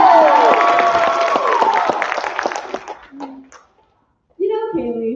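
An audience at a college dance show cheers and applauds, a loud burst of clapping and whoops that fades after a few seconds, followed by a pause and then a voice speaking.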